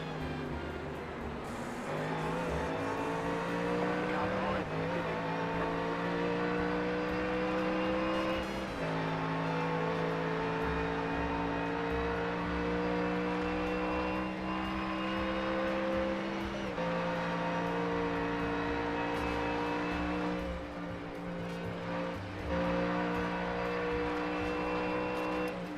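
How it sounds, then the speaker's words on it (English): NSX and Ferrari race cars in iRacing on the Bathurst mountain circuit in a 12-hour endurance race: a loud, continuous engine drone climbs in pitch and drops back at each gear shift, several times, with no talking. "So you got an NSX and a Ferrari chasing us up the mountain."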